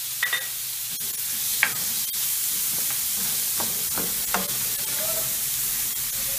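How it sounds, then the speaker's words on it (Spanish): Small diced onion sautés in oil and chicken juices with a constant, even sizzle. Occasional stirring clicks and scrapes of a utensil sound through it, and nobody speaks. "vamos a sofreír la cebolla, que la hemos picado en cuadros pequeñitos"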